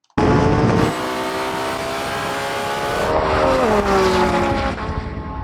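Two supercars, a Lamborghini Revuelto and a Ferrari SF90, launch hard side by side in a drag race, with a loud sustained engine roar that climbs in pitch through the gears, a brief shift dip midway, and tire noise from wheel spin at the start.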